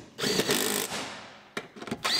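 A power tool whirs in short bursts while tightening seat bolts inside a 2015 Toyota RAV4, close and fairly loud, with a long run followed by several quick pulses.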